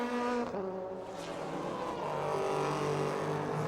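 A Porsche race car with a flat-six engine roars steadily at Le Mans in 1997, its loud, continuous engine note shifting pitch as the revs change, with no talk.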